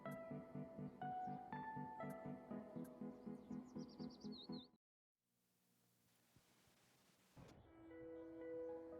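A bird in the Dropsy video game gives a quick run of high, thin chirps over steady game music, followed by a brief near-silent pause before the music returns.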